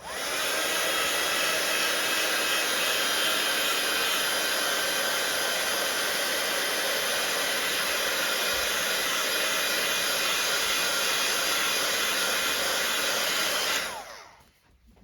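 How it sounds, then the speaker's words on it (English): A heat gun blasting hot air to dry a watercolour card gives a loud, steady, close whooshing roar that runs unbroken for about fourteen seconds, then cuts off abruptly. "So I'm just going to blast it with the gun."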